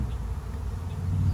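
A swarm of honey bees that has settled under a hive's bottom board gives off a steady, dense buzzing that holds continuous and even throughout, with no voices.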